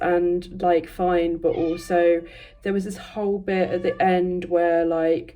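A pet cat meows, with its cries mixed into continuous close-up talking from a person.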